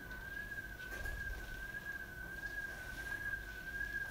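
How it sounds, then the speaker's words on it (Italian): A faint steady whistle with a slightly wavering pitch sounds in the background throughout, over a low indoor hum during a lecture on statistics. "Ci voleva anche questo fischio."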